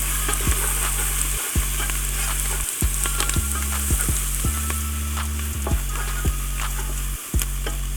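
Peanut curry with chili flakes being stirred in a pan: a steady frying sizzle with repeated scraping strokes and a few clanks, close and fairly loud, with no talking.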